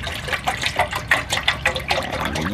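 Water is poured from a container into a mixing vessel for a plant fertilizer solution, a steady splashing pour with rhythmic glugging surges, close and fairly loud, with no talking.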